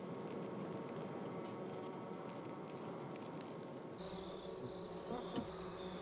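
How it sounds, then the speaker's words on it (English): Japanese honeybees buzz in a dense, continuous hum at a hive, quiet but steady, with a brief shift in tone near the end and no speech. "The custom of keeping wild Japanese bees is as old as society itself, and Yamaguchi has kept bees since boyhood."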